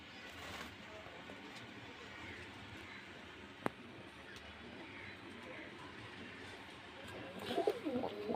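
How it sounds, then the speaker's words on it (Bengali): Pigeons at a pigeon sale in Beldanga, Murshidabad, coo softly against a quiet, low background, with a brief sharp knock midway and faint voices. "এই যে দেখুন বিস্কুট কালারের পায়রা"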